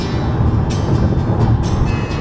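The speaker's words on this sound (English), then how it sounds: "That's a long train." Long freight train passing in the desert, a loud, close, continuous low rumble and rolling clatter with faint squeals above, steady throughout with no speech.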